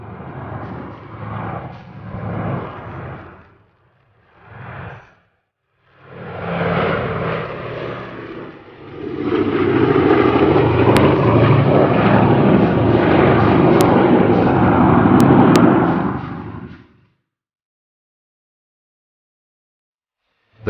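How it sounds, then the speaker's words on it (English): A Hercules transport aircraft approaches low over Lake Victoria to land at Entebbe Airport. Its propeller engine drone comes in bursts, then swells into a loud, steady roar for several seconds before cutting off to silence. "The lead aircraft dipped low over Lake Victoria and lined up for Entabe Airport."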